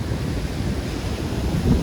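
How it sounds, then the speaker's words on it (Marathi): Steady rushing roar of sea surf breaking on rocks with wind buffeting the microphone, a continuous low wash swelling slightly near the end, no voices. "लाटा रे का कसले फुटतात"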